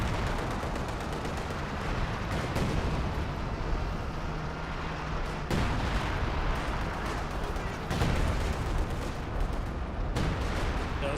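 Artillery fire in the Company of Heroes 2 war game booms repeatedly in a dense, rumbling barrage, with sharp blasts landing at uneven intervals amid continuous battle noise.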